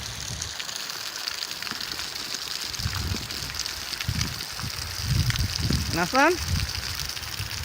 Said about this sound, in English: All this water coming out from your tank. Look, water flowing here.